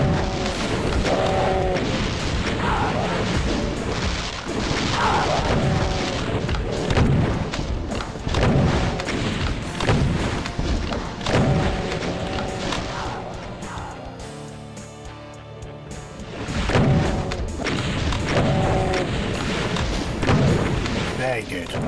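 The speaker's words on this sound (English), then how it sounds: "What a place for a rocket to slip through" Video game rocket blasts and booming explosions thud repeatedly through a chaotic shooter fight against a cyberdemon, with a person talking over the blasts.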